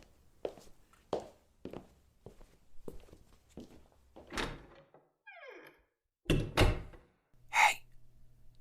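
A door shuts with a solid thunk after footsteps and shuffling, then another heavy thud and a sharp metallic clack, all fairly quiet in an otherwise still room.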